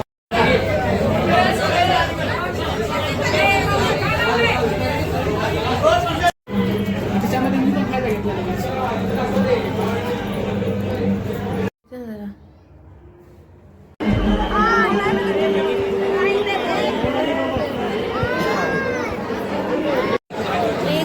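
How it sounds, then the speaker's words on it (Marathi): A dense crowd of pilgrims packs the Tuljapur temple, a constant babble of many overlapping voices heard close, broken by brief dropouts and one quieter stretch. "किती गर्दी आहे."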